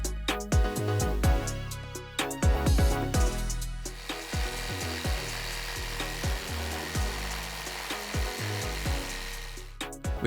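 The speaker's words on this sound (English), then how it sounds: "the bandsaw quickly cuts the complex curves, shaping the rough table leg according to the design" A bandsaw cutting complex curves into a rough wooden table leg, with repeated grinding cuts that rise and stop in uneven bursts, loud and close, with no talking.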